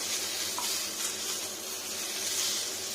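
Potatoes frying in a pan at home, a steady broadband sizzle with faint crackles, close and moderately quiet, continuing evenly without talk.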